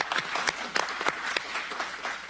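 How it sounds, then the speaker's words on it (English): Applause from a small audience at a county supervisors meeting, a short burst of scattered clapping in a room, moderately loud and close. "I'm just hoping we can give Steve a round of applause for working with us for that time period."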